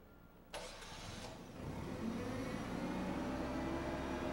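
A propane-fuelled forklift engine cranks briefly, then catches and settles into a steady idle hum that continues to the end, heard at moderate distance in a quiet setting.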